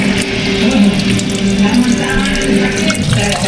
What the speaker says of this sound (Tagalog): at atin lang po itong hugasan